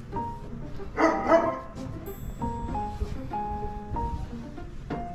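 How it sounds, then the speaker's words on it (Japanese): A large dog gives a couple of barks early on, then quieter tonal yips and whines follow amid background noise. "そばに大型犬がいます。"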